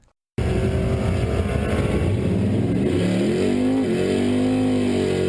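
Drag racing car engine revving, a loud sustained engine roar that starts abruptly and climbs and shifts pitch through several rising sweeps.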